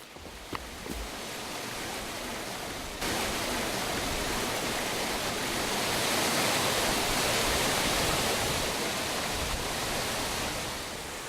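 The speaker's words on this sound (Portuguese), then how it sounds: "ele tem a ver não só com a queda da água no espelho d'água que já está aqui embaixo, mas também nos degraus da cachoeira" Waterfall in the cuesta relief near Botucatu, water dropping onto basalt rock steps and into the pool below, a loud, steady broadband roar heard close up, unbroken and alone throughout.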